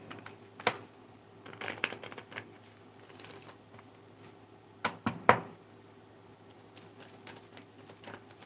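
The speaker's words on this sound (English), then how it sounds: "let me give it another shuffle" Soft, quiet tarot card shuffling with scattered riffling bursts and light taps, a sharper flurry near the end, in a hushed room.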